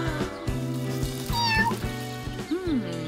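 A kitten meows several times, high rising and falling cries standing out over a steady background of music-like tones, close and fairly loud.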